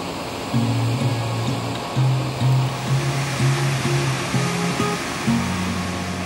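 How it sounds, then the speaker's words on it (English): Weber Falls, a triple waterfall with a 76-foot plunge in Tahoe National Forest, California, roars as a steady broadband rush heard from a distance, with a low intermittent tonal hum layered under the water noise. "Weber Falls is a triple waterfall with a total plunge of 76 feet."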